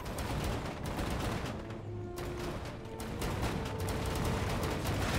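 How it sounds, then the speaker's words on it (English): Cannons firing in the PS4 Medievil game: a dense, continuous barrage of booms and crashes with clanking mechanisms, loud and relentless, with no voice. "That's a lot of cannons."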